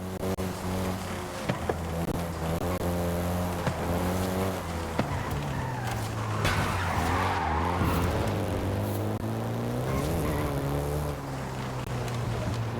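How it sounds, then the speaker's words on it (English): A Volkswagen Golf GTI in the racing game Forza Horizon 5 drones steadily with engine tone rising and falling through gear changes, while tires skid and squeal repeatedly over a continuous, fairly loud run. "the Golf GTI you're driving right now"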